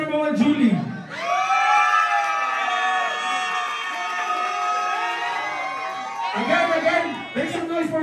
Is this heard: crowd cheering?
yes